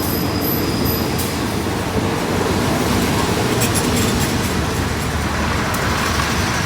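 Thai southern line express train 86, pulled by a GE locomotive with air-conditioned sleeper cars, thunders past at close range in a loud, unbroken roar of wheels and rail noise with a few high squeals.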